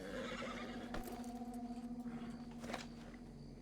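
A horse in the Western video game Red Dead Redemption 2 gives a faint, quavering whinny, heard along with a few soft hoof clops and light jingling of tack, with no talking.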